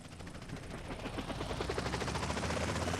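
In GTA San Andreas, a helicopter's rotor chops steadily in a fast rhythmic flutter, fairly close and continuous for a few seconds, with no voice over it.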